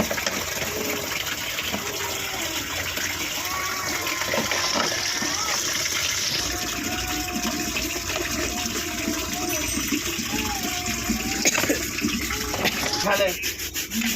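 A child splashes and stirs water indoors in a home, with a steady run of sloshing, rubbing and trickling sounds close by throughout.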